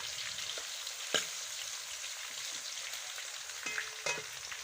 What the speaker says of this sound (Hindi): देखिए मसाला अच्छे से फ्राई हो चुका है और टमाटर भी देखिए मिक्स हो गए हैं मसाले के अंदर